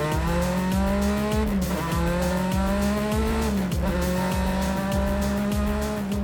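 A Mini rally car driving flat out on a gravel rally stage, engine screaming loud and close as it climbs through gears with repeated shifts, tires scrabbling and skidding between pulls.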